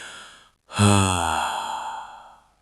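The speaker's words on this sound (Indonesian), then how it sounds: "Ada tarikan napas panjang yang berbunyi" A single long, airy breath drawn in sharply before a sneeze, held and fading slowly over a couple of seconds.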